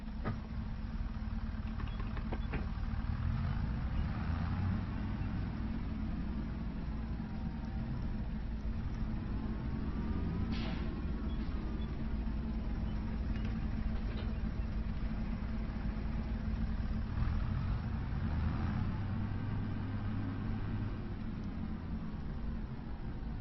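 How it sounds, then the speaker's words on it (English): A Case International 1455 tractor engine idles in Farming Simulator 25 on a farm where winter wheat is being drilled. It holds a steady, even low rumble for the whole stretch, with a faint mechanical whine above it. "Here's the new tractor we got, Case International"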